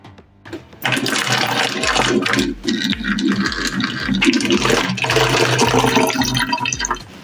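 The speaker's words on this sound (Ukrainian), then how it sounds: "А уксус виливаємо у пляшку." Vinegar is poured through a funnel into a bottle for a baking soda chemistry demonstration, producing a loud, close, continuous gurgling flow with rhythmic glugging pulses and no speech.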